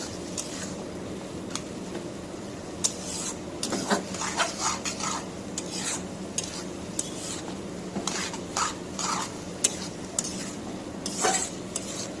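Dried fish and jackfruit seeds are stirred and sautéed in a pan: repeated scraping and clinking of a utensil against metal over a low background sizzle, in irregular bursts, close and fairly loud.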